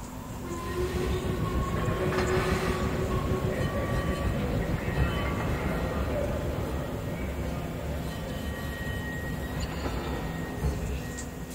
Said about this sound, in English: This is a very long train.